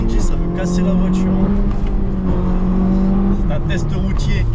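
A Honda Civic Type R pulls hard through first gear on a public road, its engine droning loudly and steadily from inside the cabin while someone talks over it.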